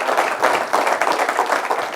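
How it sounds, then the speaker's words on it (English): Brief audience applause for a speaker at a business talk, a short steady patter of many clapping hands at close range with no voices. "give Mr. Taylor here a round of applause, please"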